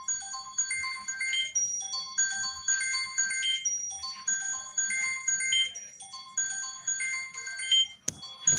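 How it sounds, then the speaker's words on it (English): A melodic electronic ringtone plays in repeating bursts of bright tones, close and clear, while an outgoing phone call waits to connect, with a brief clatter at the end. "Why the phone ringing?"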